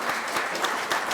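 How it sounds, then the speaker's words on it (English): A crowd applauds at the outdoor dedication of a heritage center farm, with dense clapping that stays steady and fairly close throughout the short span. "So a round of applause for all of our local partners."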